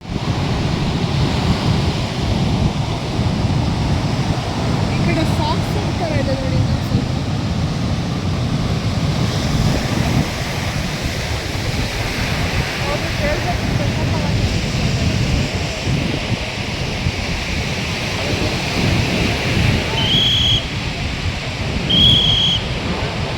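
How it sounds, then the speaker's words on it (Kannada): Waves and wind at Panambur beach in Mangalore, a steady loud roar of surf mixed with gusting wind and microphone buffeting, continuous throughout with a faint voice in the background. "ಪಣಂಬೂರು ಕಡಲ ತೀರ."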